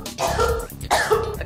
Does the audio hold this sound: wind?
no